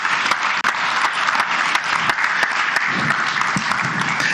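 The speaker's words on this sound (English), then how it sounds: "Shall we have a presidential applause for our special guest of honor," A customs conference opening ceremony crowd gives loud, close applause for a guest of honor, many hands clapping with distinct sharp claps popping out of the dense wash, with one brief dip early on.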